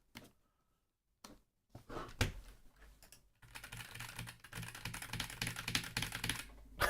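Fast typing on a computer keyboard, close and clear, beginning with a few separate keystrokes broken by silent gaps, then turning into a dense run of clicking toward the end.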